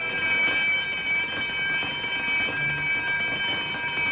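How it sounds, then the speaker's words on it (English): A palace alarm in an old sci-fi film rings as a steady, sustained electronic tone with a few bright pitches held over a rough background hiss, continuous throughout with no speech. "That alarm meant that someone had been captured."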